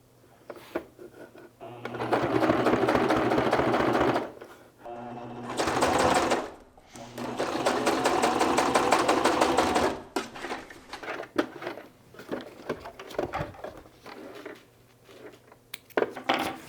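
A sewing machine runs in long, steady stitching stretches with short stops between them, whirring close up, while a person talks at times during the pauses.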